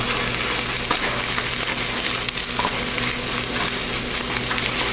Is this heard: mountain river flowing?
no